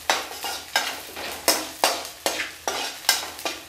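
Onion and garlic sautéing in oil in a pan for a beetroot chutney, with a steady sizzle broken by repeated scraping stirs at a quick, regular rhythm, close and fairly loud with no voices.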